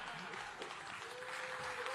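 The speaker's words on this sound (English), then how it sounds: "Round of applause." Audience at a campaign event in New Hampshire claps steadily, a dense, sustained wash of applause, while a voice speaks over the clapping.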